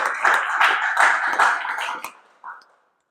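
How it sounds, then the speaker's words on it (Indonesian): Audience applause after a lecture on frequency and structural analysis, a short burst of scattered hand claps that fades out after about two seconds, followed by one faint tap. "silakan berikan tepuk tangan"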